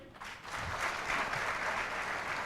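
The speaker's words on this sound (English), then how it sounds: "Can we clap for him?" A small audience in a classroom lecture claps in a steady, even patter of applause, fairly faint and without voices, lasting a couple of seconds.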